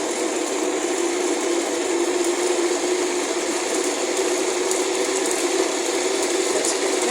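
An electric grinder grinds ingredients for a homemade remedy, giving a steady, loud mechanical whir with a gritty rattle that holds unbroken from start to finish.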